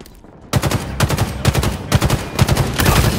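Automatic gunfire in the Halo Infinite King of the Hill ranked arena mode: after a brief quiet start, loud rapid bursts of shots repeat in a steady rhythm, close and dense, with no talk.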